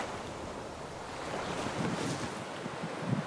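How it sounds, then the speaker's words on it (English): Ocean surf beneath a concave cliff on the coastal chain walk at Elie, a steady broadband wash of waves and wind, with the waves rolling and swelling softly. "reflecting and concentrating the sound of the ocean behind me, so it felt like I was surrounded by waves."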